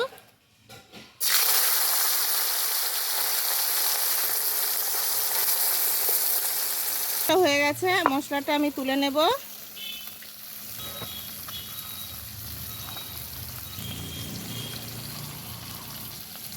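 Puti fish frying in mustard oil in a wok, a loud, steady sizzle that drops to a softer crackle after a voice speaks briefly partway through.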